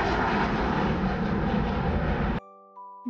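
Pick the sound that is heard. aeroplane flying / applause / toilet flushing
aeroplane flying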